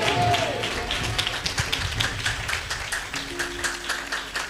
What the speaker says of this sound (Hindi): तालियों के साथ बोलेंगे